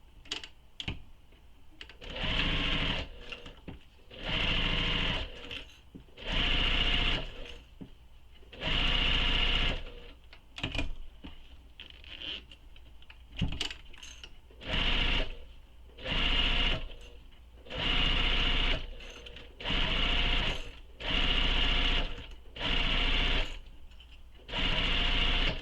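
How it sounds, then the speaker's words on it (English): A sewing machine stitches a belt bag seam in repeated short bursts, each a couple of seconds of close, buzzing motor hum, separated by brief pauses. "So I'm going to sew this with the seam allowance given in the pattern."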